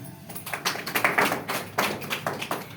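A seminar audience claps together in a short burst, a quick irregular patter of hand claps at moderate volume without talk.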